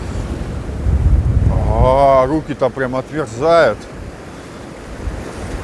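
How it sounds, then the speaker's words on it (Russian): Sea waves wash onto a cold beach in Anapa while gusting wind buffets the microphone, with someone speaking over the steady surf. "Даже вот в такие волны лучше поближе держаться к берегу."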